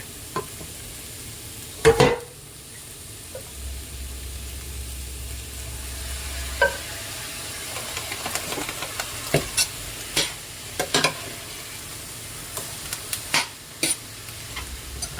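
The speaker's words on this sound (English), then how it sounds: "I'm going to put some more of this broth." Broth goes into a sizzling chicken and chickpea skillet with garlic, giving a steady low sizzle broken by sharp clinks and scrapes of stirring that grow more frequent toward the end, with no talking.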